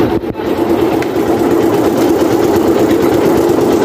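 A single abaca fiber stripping machine runs loud and steady, a continuous mechanical whir and rumble that holds at the same level throughout, with no voices.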